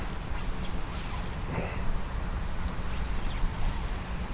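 A fishing reel's drag clicks in brief ratcheting bursts as a hooked tarpon pulls line on a pond, the buzzing runs coming and going over a steady outdoor background.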